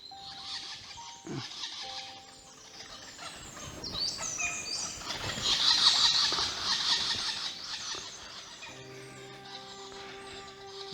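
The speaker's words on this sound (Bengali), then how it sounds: "পাখির ডাকও নিশ্চয়ই শুনতে পাচ্ছেন।" Birds call in a dense forest bird sanctuary near Nainital. Several scattered chirps and calls, faint to moderate, overlap with soft ambient rustle and a brief low voice.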